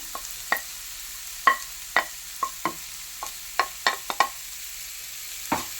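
Onions and small shallots sautéing in a pan: a soft continuous sizzle under repeated spatula taps and scrapes at an uneven rhythm, close and without talk.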